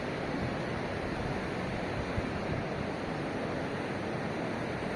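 Steady, even rushing of the Indus River flowing beneath a bridge, a continuous broad wash of sound with no pauses or voices.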